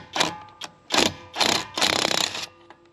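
Alloyman cordless 1/2-inch impact wrench removing a torqued nut: four close, loud hammering bursts of rapid clattering impacts, each separated by brief pauses, the last burst longest.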